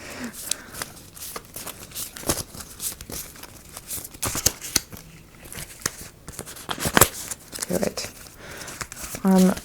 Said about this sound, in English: I'm shuffling very badly today.